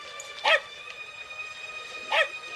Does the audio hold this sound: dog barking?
yes